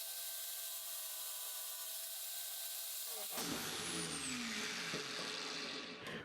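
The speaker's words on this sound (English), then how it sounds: "The grinding wheel is pretty aggressive, so I will finish with sandpaper." An angle grinder with a sandpaper adapter sharpens a chisel, a steady whirring hum joined midway by a loud, coarse abrasive rubbing as the blade meets the 240-grit paper.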